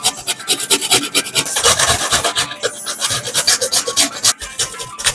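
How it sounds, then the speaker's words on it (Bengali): A small piece of fresh coconut is rasped against a hand grater in a kitchen, a loud, close run of rapid scraping strokes with an uneven rhythm and no talking. "আমি ছোট একটা নারকেলের টুকরো নিয়েছি, এটাকে একটু গ্রেট করে নেব"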